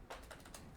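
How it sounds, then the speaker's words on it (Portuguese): Soft, quick keystrokes on a computer keyboard tap out a short run of clicks, faint and close with a light room hiss. "vou digitar mais uma vez aqui"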